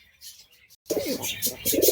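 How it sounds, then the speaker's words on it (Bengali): A domestic pigeon brooding on eggs in a home loft at night gives a short, close, throaty coo right after a moment of near silence. "দেখুন বন্ধুরা ডাক করছে পায়রাটা"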